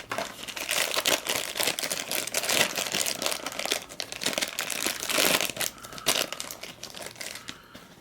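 Packaging of a small Pacific Rim Heroclix kaiju figure being unwrapped, close crinkling and crumpling of plastic and paper in busy irregular bursts, with no talking.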